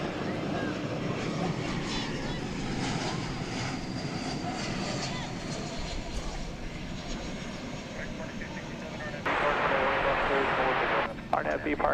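An airliner's engines roar steadily at DFW Airport at night, a Salt Lake City arrival, with broadband rumble that swells louder near the end while a person talks over it.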